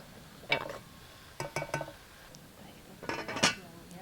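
A spoon stirs banana stem curry in a pot, with several quick metallic clinks and scrapes in short bursts, fairly faint and close, in an otherwise quiet kitchen.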